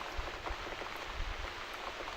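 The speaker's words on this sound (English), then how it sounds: "Looks like we got the rain back." Rain in the video game The Cat Lady falls as a soft, steady patter with scattered drops, quiet and continuous with no voices over it.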